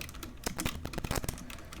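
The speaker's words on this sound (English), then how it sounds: "I'm just typing in Google Sheraton College" Someone types a web search on a computer keyboard, producing a fast, uneven run of close, crisp key clicks with no speech.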